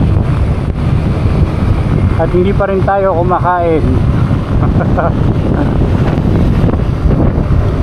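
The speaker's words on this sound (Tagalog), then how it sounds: "sobrang lakas ng hangin dito" Strong wind roars and buffets the microphone continuously, a loud steady rumble with a person speaking briefly through it.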